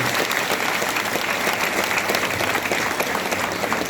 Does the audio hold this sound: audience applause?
yes